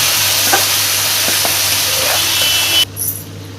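Blended tomato chutney goes into a hot pan with oil and is stirred, giving a steady loud sizzle with a few scraping stirs before it suddenly cuts off near the end.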